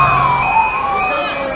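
An ambulance siren wails steadily at a moderate distance in Manhattan during an evacuation, blending with street noise and a faint voice in the background.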